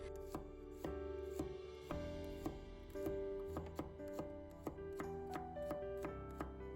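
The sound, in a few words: knife slicing garlic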